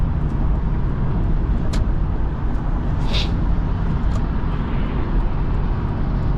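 A 2006 Lexus GX 470 with 268,000 miles drives on the road, its engine and tire roar heard from inside as a loud, steady drone with a few brief clicks and rattles.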